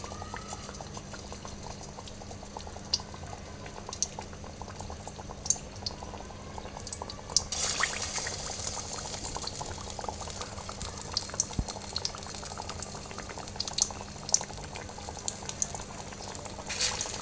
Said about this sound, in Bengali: তো একে একে ডিমে চুবিয়ে সবগুলো এভাবে ভেজে নেব।